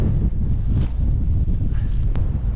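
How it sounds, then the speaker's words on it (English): Strong wind gusting on an exposed hilltop above Knockalla Loughs, a loud, constant roar buffeting the microphone with no letup. "Bit windier up here."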